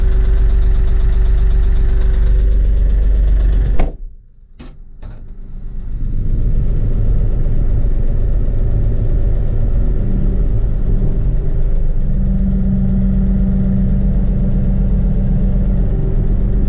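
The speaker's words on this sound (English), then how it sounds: "We do have the third function in this tractor, so it makes grabbing all this brush really, really easy." A Kioti NX4510 tractor works at clearing brush, its engine a steady close rumble that cuts out briefly with a couple of sharp knocks, then settles back into a continuous loud drone that rises slightly in pitch later.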